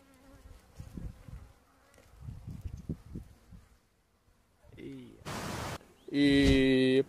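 Honeybee swarm buzzing inside a bait box, a steady droning hum that swells and fades in bursts, growing louder and denser toward the end, with brief rustling noise between.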